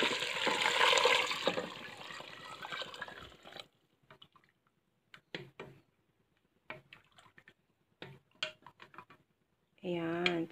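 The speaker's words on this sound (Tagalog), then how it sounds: "Lalagay ko na po yung tubig." Water splashes briefly from a container into a pot of sautéed pork for sinigang. A quieter stretch follows with soft clinks and drips, and a voice speaks at times.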